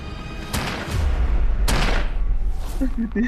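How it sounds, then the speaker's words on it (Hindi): Two heavy, booming bangs about a second apart, each followed by a low rumbling tail, with voices and noise continuing underneath. "अचानक से ना गोली चलने की आवाज आई"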